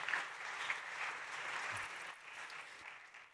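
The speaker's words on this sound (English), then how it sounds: "please give a big round of applause to Vincent Rosso" An audience at a startup pitch competition applauds steadily, a dense wash of clapping hands that holds evenly for several seconds before easing slightly near the end.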